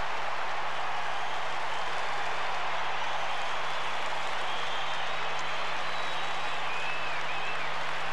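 Stadium crowd at the 1996 Essendon versus Geelong centenary AFL game roars after a Geelong goal, a continuous broad, distant-sounding swell of cheering that stays level without breaks.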